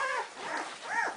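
A three-week-old puppy whimpers in a series of thin, rising and falling whines, close by and fairly loud, with no talk over it.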